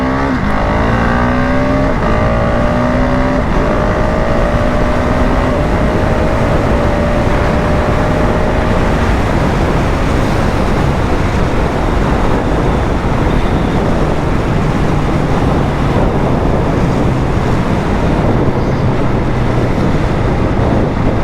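A new 2026 KTM 690 motorcycle accelerating hard through the gears with its quickshifter, the engine revving loud and close in rising sweeps and quick shifts before settling into a sustained roar with heavy wind rush.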